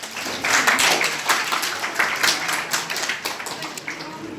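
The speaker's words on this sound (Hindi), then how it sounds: "ताली बजाओ।" Schoolchildren clapping their hands together in a government school classroom during a Sahaj Yoga session, quick uneven claps from many small hands with voices mixed in underneath.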